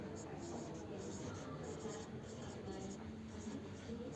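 Marker or chalk writing on a classroom board during a Class 5 maths lesson on factors, a steady faint scratching and squeaking under a room hum, with a teacher's voice speaking over it.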